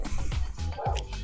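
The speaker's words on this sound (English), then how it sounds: "Go check what he's barking at, Mars." A dog in a backyard barking in quick, close, sharp yips and short whimpering barks, several in rapid succession.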